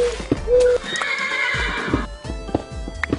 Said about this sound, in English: The horse is a little restless.